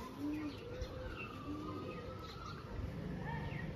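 A Jamni-coloured Panjapa pigeon coos in a home pigeon collection, a few soft repeated low calls with faint chirps and a steady background hum.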